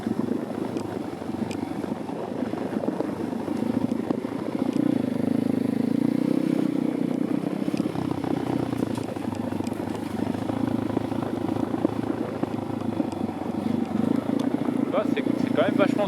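A dirt bike engine runs continuously in a steady loud drone, rising slightly in the middle, with people talking over it.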